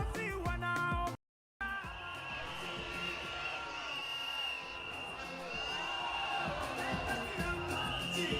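A large crowd cheers and roars at a Kenya Kwanza political rally in Nyayo Stadium, a sustained wash of voices and whoops with amplified speech over it, briefly cut to silence near the start.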